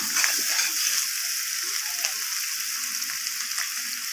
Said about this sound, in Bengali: তো আলুটা এখানে আমার লাল লাল করে ভাজা হয়ে গেছে।